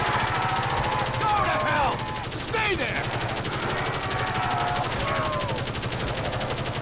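A sentry gun fires in rapid, unbroken automatic bursts in Call of Duty custom zombies on a Pokemon Stadium map, as a steady mechanical rattle under excited voices and game effects.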